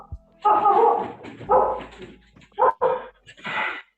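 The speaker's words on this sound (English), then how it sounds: "Sorry about the dogs." Several dogs bark in bursts across a home morning meeting, loud and close, with whimpers and yips between barks and a person speaking briefly.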